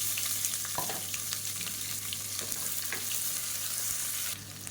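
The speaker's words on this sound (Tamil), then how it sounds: "இப்போ வெங்காயம் நல்லா வதங்கிடுச்சு" Sliced onions sautéing in oil with fennel seeds and curry leaves in a pressure cooker for salna, a steady close sizzle and frying hiss with faint stirring clicks throughout, no voices.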